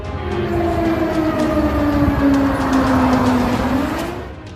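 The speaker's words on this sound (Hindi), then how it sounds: "यूक्रेन की राजधानी कीव में बज रहा ये सायरन" An air raid siren wails over Kyiv in one long sweep that rises, holds and then falls away, loud against a distant background hum.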